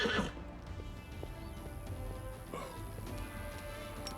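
A horse whinnies loudly at the start in the video game Wrath of the Righteous, then settles into quieter ambient game sounds with scattered faint taps and no speech.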